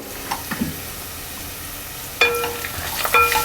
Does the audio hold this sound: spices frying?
yes